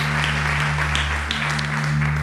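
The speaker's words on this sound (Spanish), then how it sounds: "Dale un fuerte aplauso al Señor mientras usted se sienta." A church congregation gives a brief round of applause at a Spanish-language revival service, a dense wash of clapping over a steady low hum, with no voices standing out.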